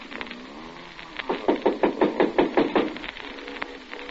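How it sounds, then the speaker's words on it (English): Knocking on a door in an old radio suspense drama, a run of about ten quick, firm raps in a steady rhythm, with no one speaking during the knocks. "Somebody at the door."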